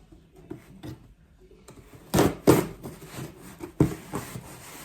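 A cardboard box being cut open with the file edge of a nail clipper, giving scattered scraping and ripping bursts, with a few louder tearing strokes near the middle and end of a quiet room.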